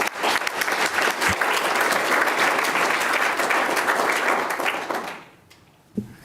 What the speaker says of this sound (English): So again, one more round of applause